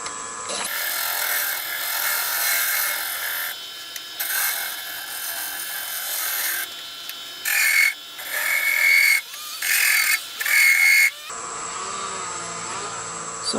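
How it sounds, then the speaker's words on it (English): A skew chisel smooths a spinning wooden scratch-awl blank on a lathe, giving a scraping, hissing rub that comes in several short bursts broken by pauses, with no voices. "I'm going to take my skew and just smooth it out a little."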